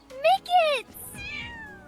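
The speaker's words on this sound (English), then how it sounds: "Someone must be looking for this little kitten." A small kitten gives two clear, high meows in quick succession, followed by a softer, trailing mew, close by and alone.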